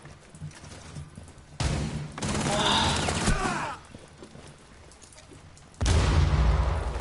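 Gunfire in the video game Rainbow Six Siege comes in two loud, dense bursts, a long rattling volley in the middle and another sharp barrage at the end, with voices talking around them.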